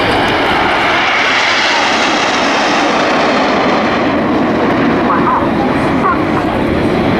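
Aerobatic display aircraft at the 2015 Bournemouth Airshow roar overhead as a loud, steady engine drone that fills the whole stretch, with outdoor crowd and wind noise beneath.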